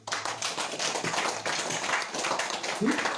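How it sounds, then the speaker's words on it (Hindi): An audience at a Shree Krishna Ramayan religious gathering claps loudly and steadily, a dense, continuous burst of applause that fills the whole moment. "मैं चाहता हूं जितने भी लोग यहाँ हैं सभी कोई अपने आप के लिए जोरदार तालियां दें।"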